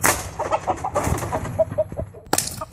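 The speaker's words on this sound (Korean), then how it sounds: "화살을 빗맞은 닭이 비명을 지릅니다." A chicken in a coop squawks and clucks in agitated bursts after a crossbow arrow misses it, loud and close, ending with a sharp snapping crack.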